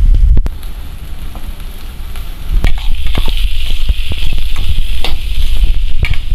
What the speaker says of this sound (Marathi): मला हे शिमला मिरची आणि बटाटा फ्राय करून घ्यायचं